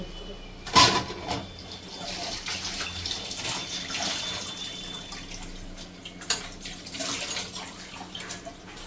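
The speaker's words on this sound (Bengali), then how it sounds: "এবার সামান্য একটু জল দিয়ে মশলাটাকে ভালো করে" A little water splashes and trickles into a spice mixture for katla fish paturi, a brief sharp splash followed by soft, intermittent pouring and dripping while someone talks.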